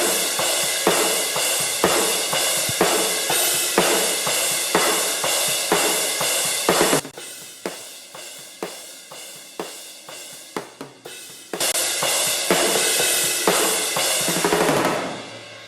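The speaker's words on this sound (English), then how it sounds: "And now I'll play you the processed overheads" Drum overheads processed with a stereo enhancer that widens the high end, cymbals and hits pulsing steadily and loudly in a bright wash, dropping to a thinner, sparser section midway before the full kit returns.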